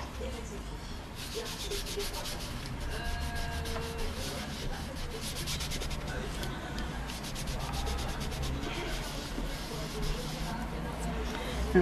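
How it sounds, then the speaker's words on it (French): A wet cloth rubbed steadily over glossy card stock being tinted, a continuous close scrubbing sound throughout. "Je mouille bien mon chiffon. Et je frotte."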